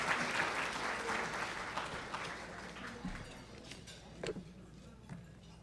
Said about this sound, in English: whenever we announce an awardee, you get to stand up and applaud